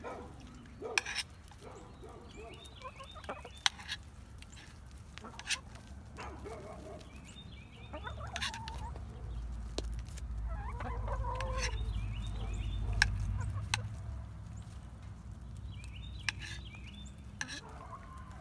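Backyard chickens cluck and squawk while pecking at meat scraps, their calls scattered and fairly close, over a low steady rumble that swells in the middle.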